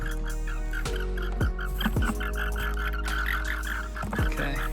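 Eastern gray tree frogs call outdoors in a chorus of repeated short, pulsing trills that overlap one another close by, with a low steady rumble underneath.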